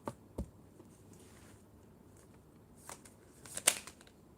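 Tarot cards being shuffled, soft and close: faint papery patter and a few sharp riffling bursts near the start and end, with quiet gaps between.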